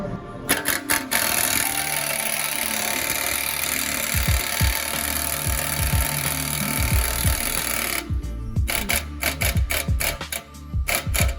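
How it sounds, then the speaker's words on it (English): A ball joint press squeezing a bushing into a car control arm on a Honda Prelude during a coilover install, with repeated sharp metallic clicks and ratcheting knocks in irregular bursts over a steady noisy background. "We're just going to squeeze that bushing into the control arm."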